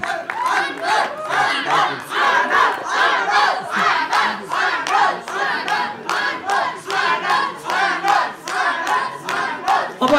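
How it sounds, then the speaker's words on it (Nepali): A crowd at a film trailer launch event claps and cheers for a couple on stage, loud rhythmic clapping with shouting voices mixed in, swelling and pulsing continuously. "यो सुन्दर जोडीका लागि एकचोटि जोरदार ताली"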